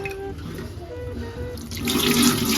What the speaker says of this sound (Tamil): பார்த்தீங்கன்னா நான் ரைஸ் வாஷ் பண்ணிட்டு இருக்கேன்